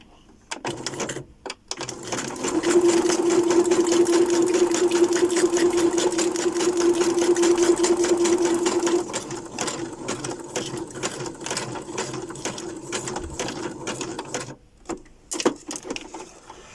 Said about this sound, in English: I want to just add a bit more interest by sewing this here closed.